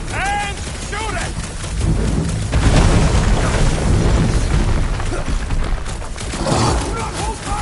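Plasma weapon blasts aimed at a dragon in the Marvel Guardians of the Galaxy video game, a dense, loud stretch of booming bursts and roaring impacts, with voices shouting over the battle.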